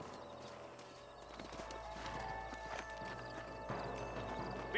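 Several horses' hooves clip-clop in a steady trotting rhythm over quiet outdoor ambience, in the video game Red Dead Redemption 2.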